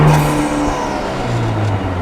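A 2020 Vanderhall Venice drives along with a steady engine drone and road rumble, heard from on board at a constant pace.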